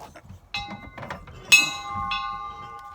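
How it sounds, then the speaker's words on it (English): A bell rings in two distinct metallic dings with long, clear ringing tails, quiet and fairly close, with soft background noise between the strikes. "Yep, a couple dings of the bell."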